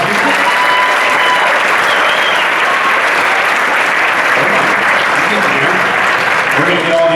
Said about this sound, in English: All those people, give them a round of applause.